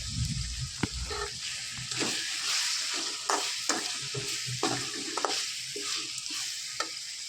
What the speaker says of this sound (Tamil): இப்போ இதில் வந்து நான் கருவேப்பிலை சேர்த்துக்கிறேன்